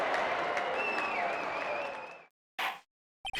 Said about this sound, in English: Stop it! Stop cheering!